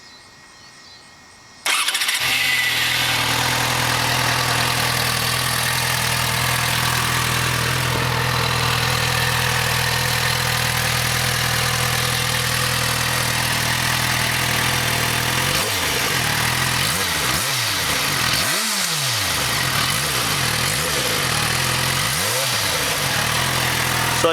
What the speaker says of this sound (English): So let's hear the engine.